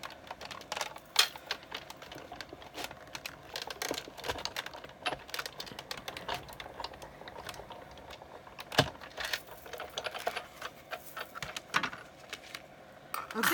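A die-cutting machine cutting a snowflake card makes a long run of irregular clicks, ticks and light rattles, fairly quiet and close, with occasional sharper knocks and no speech.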